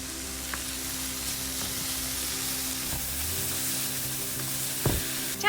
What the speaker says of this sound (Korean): 팬에 물기 쫙 빼준 고사리를 넣고 들기름 1스푼 두르고 다진 마늘 1스푼, 국간장 2스푼으로 간을 맞춘 뒤 약불에서 천천히 볶아줄게요